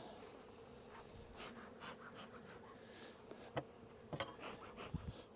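Honey bees buzzing around a hive on a pallet, a faint, steady hum with a few sharper clicks and knocks near the end.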